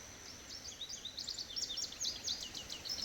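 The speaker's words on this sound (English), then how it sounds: "There's that bird." A bird calls repeatedly at dawn on a mountaintop, thin high chirps and whistles coming in a steady scattered series over faint wind, fairly distant and quiet.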